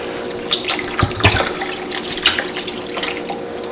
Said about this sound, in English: Now I'll put the milk in